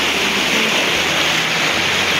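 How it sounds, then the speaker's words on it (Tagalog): A strong river current rushes in a steady, loud, close broadband roar without break, with no voices over it. "pero malakas yung agos"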